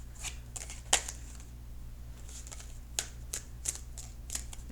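Tarot cards are shuffled up close in short riffling bursts, a sharp flutter followed by scattered slaps and riffles over a low steady hum.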